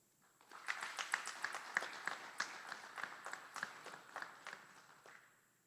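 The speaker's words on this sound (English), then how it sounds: "Please join us in giving a round of applause to these outstanding drill sergeant and instructor." Audience applause at an Army aviation brigade graduation ceremony at Fort Eustis, a steady patter of many hands clapping that swells in, holds for several seconds, then fades out, somewhat distant.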